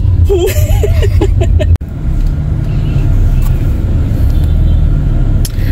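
A car drives along in morning traffic with a low, steady engine and road rumble inside the cabin. A voice and a short chuckle come early, then a single sharp thump, and the drone carries on.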